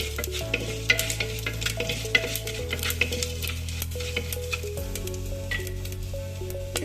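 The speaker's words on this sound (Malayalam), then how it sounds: "പിന്നെ രണ്ട് വറ്റൽ മുളക് ഇട്ട് കൊടുത്തിട്ട് നന്നായിട്ടൊന്ന് വഴറ്റാം" Dried red chillies sizzle in hot oil in a pan for a Tamil-style sambar. A steady, close frying hiss runs under repeated scraping strokes from a stirring spoon, with no voices.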